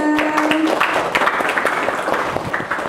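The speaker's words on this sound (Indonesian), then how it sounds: "boleh tepuk tangannya" Applause from a studio audience thanking a doctor on a Ramadan health talk show, a dense patter of clapping filling about three seconds with a sustained musical tone in the first moments.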